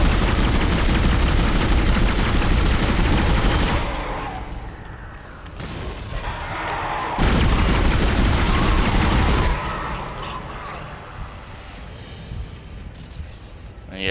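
Rapid gunfire from a weapon in Dead Space, used to shoot down enemies: sustained loud bursts for about four seconds, a quieter stretch, then a second loud burst before the shooting fades into softer background game noise.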